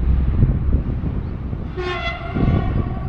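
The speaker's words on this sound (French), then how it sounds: "2 trains qui se croisent." Two trains crossing each other on a line beside the Meuse in the Ardennes: rumbling rail noise throughout, with a short horn blast sounding in the middle, fairly close and loud.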